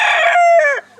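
An American Thai stag, a young rooster about seven months old, gives one loud, close crow that wavers, then drops away sharply at the end.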